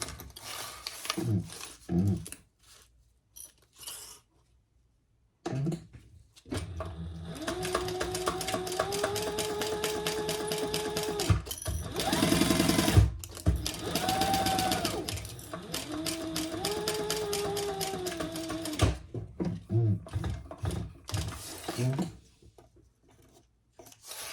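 A sewing machine stitches a crossbody bag seam in long, steady whirring runs broken by pauses and handling noises, heard up close.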